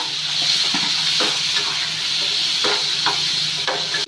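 Garlic and tomato fry in a pan for gongura chutney, a constant close hiss and sizzle broken by soft scraping stirs, with no one speaking.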